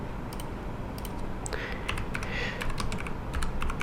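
Typing on a computer keyboard, quick irregular clicks of keys, close and steady over a constant background hiss.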